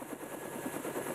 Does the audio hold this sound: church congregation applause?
no